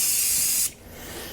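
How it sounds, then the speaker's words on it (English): Brake cleaner hisses loudly from an aerosol spray can onto a snowblower part for about two-thirds of a second, then cuts off sharply, leaving quiet room tone. "So we will spray that with some brake cleaner."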